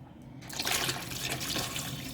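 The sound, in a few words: water being added to frying beef for biryani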